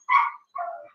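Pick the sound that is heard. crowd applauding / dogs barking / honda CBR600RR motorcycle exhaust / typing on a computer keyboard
dogs barking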